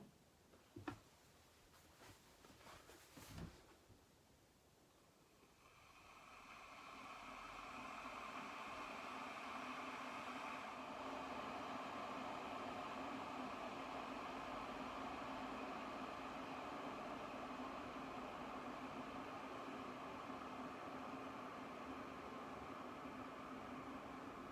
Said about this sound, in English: What I'll do is turn the kettle on